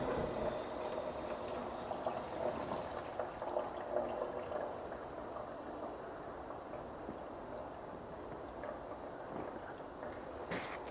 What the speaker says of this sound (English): The water is on, it's making weird noises because it's coming through weird pipes up there.